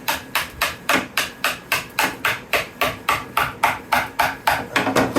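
Hammer blows knocking stubborn molds apart, about fourteen sharp, evenly spaced strikes in quick rhythm, close and loud with no talking.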